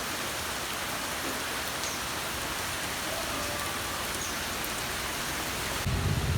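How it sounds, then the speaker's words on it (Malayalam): Steady rain pours down in a dense, even hiss with no voices, growing a little heavier near the end, during flooding in Kerala. "മഴ ഉണ്ട് ഇവിടെ"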